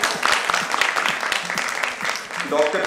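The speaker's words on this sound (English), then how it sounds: "Let's have a huge round of applause for our stellar panel." Applause from a conference audience at a nursing conclave for a hospital panel, moderate and uneven, mixed with voices and crowd murmur throughout.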